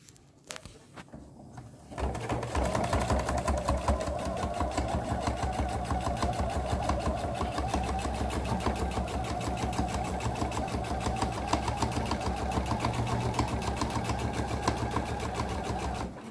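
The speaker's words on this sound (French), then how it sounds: "Surpiquez tout autour du carré à 2 mm du bord." A sewing machine topstitches around a square of fabric for a face mask, starting after a few clicks and then running in a steady, rapid mechanical chatter for the rest of the clip.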